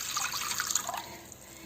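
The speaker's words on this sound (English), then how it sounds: "Into this I'm going to add around 250 ml of water" About 250 ml of water is poured into a pan on a stove for steaming pumpkin pieces, a short splashing trickle ending in a small clunk.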